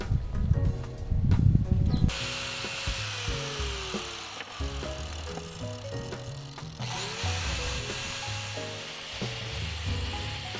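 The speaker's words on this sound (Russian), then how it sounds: "сейчас тоже включим болгарочку и зашлифуем их" Angle grinder sanding the rough, uneven edges of white-painted wooden bars cut to 17 cm, a loud burst of coarse grinding at the start, then a steady high-pitched whine with varying pressure and a short drop midway.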